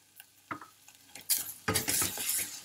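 Turmeric, red chili, black pepper and salt sautéed in hot oil, with a utensil stirring and scraping the pan, a few clinks, then a loud rising sizzle.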